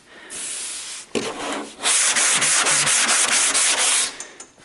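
Hand sanding of body filler on a Toyota Supra car door: a short scrape, a pause, then a long run of rapid, close back-and-forth rasping strokes in a steady rhythm.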